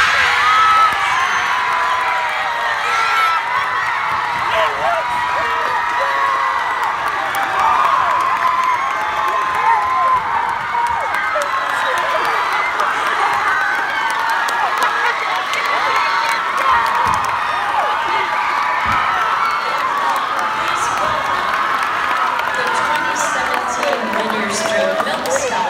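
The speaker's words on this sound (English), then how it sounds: "So now let's have a nice round of applause for this year's state runner-up" A large audience cheers, whoops and applauds steadily for the state runner-up at the 2018 ISSMA unisex division show choir competition. The sustained, dense roar fills the hall from start to finish.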